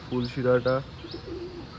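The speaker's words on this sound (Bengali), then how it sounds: "ফুলশিরার নটটা ডাকাডাকি করছে।" Domestic pigeons cooing near the loft, a few deep throaty coos in quick succession followed by softer murmuring calls, close and fairly quiet.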